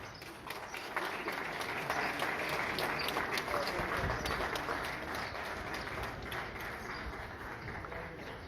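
Audience applause for Coco, scattered clapping that swells and stays fairly even before thinning out, faint and somewhat distant, with a few voices mixed in.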